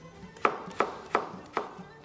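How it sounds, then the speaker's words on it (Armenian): Potatoes being chopped with a knife on a board in a home kitchen for potato tolma: four crisp, evenly spaced chops close by, with no talking. "ես սկսեմ կարտոֆիլը կտրատել"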